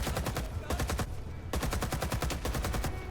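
Sustained machine gun fire in Rising Storm 2: Vietnam, a rapid unbroken stream of loud close shots forming a dense rattling burst from start to finish, with a brief slight thinning in the middle.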